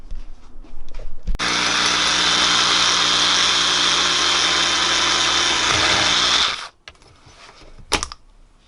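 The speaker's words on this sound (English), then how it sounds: "start drilling" A power drill whines loudly and steadily for about five seconds, then cuts off, with clattering handling noises before and after.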